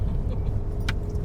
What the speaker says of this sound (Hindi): मेरी वाइफ गाड़ी चला रही है।